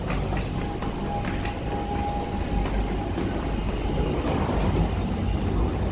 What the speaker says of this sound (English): I hear a central line train.